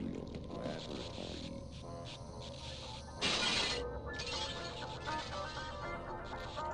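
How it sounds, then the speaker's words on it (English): Glass shatters in the video game Black Mesa: one loud, bright crash bursts out midway and fades within about half a second, over a constant bed of busy in-game ambience and rumbling. "Why did the glass have to break?"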